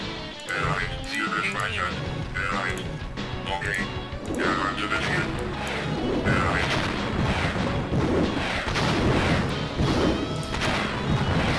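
Artillery shells slam into a ship in the strategy game Earth 2140, a dense run of loud booming impacts and crashes that keeps going without a break while someone talks over it.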